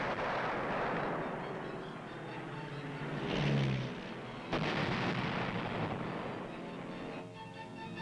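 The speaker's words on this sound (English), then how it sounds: "Using some old German battleships as targets, Billy Mitchell showed what precision bombing could do." Bombs strike old German battleships in a precision bombing demonstration, heavy booming blasts rolling out amid a continuous roar of aircraft, with two sharper bursts standing out midway.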